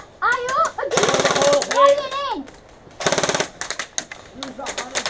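Rapid bursts of airsoft gunfire from an HPA-powered Tippmann BREN 805 A2 during a skirmish game, two long rattling volleys and shorter bursts close by, mixed with excited shouting from a player.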